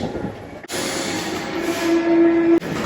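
A Paris metro train rumbles and hisses steadily, loud and close, with a sustained whining tone rising toward the end and abrupt breaks like doors or tunnel transitions.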